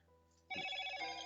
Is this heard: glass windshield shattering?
no